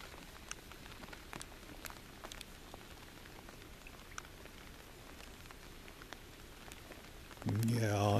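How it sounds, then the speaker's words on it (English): Steady light rain patters on a surface throughout, close and even, during a November waterfowl hunt, before a louder burst of rushing noise sweeps in at the end. "it's rainy and it's wet"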